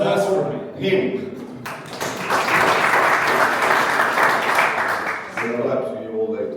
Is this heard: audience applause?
yes